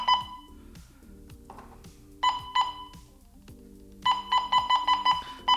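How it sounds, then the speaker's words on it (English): Electronic beeps from a Baojie BJ-218 VHF/UHF dual band ham radio, single tones at first, then a rapid run of repeated beeps over a low steady hum. "The volume does nothing for that incessant beeping."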